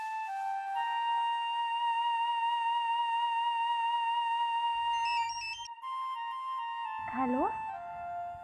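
A late-night phone ringtone plays as a steady electronic melody of repeating tones, loud and close, with a short voice and rustle near the end.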